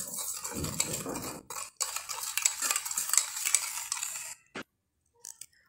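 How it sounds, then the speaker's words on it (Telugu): Beaten curd mixed with salt in a bowl gives close, busy scraping and clinking from a spoon for about four seconds, then stops, leaving a few brief knocks amid near silence. "పెరుగు ఇలా బీట్ చేసుకున్న తర్వాత దీంట్లోనే సాల్ట్ వేసి ఫుల్గా కలుపుకోవాలి."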